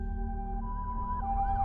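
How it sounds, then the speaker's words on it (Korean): Emergency vehicle sirens wailing at a mansion fire in an audio drama, steady and somewhat distant, with rising and falling tones toward the end. "아까부터 사이렌 소리 안 들려?"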